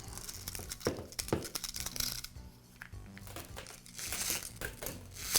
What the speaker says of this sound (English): Next, I'll remove the trimmer line from the spool.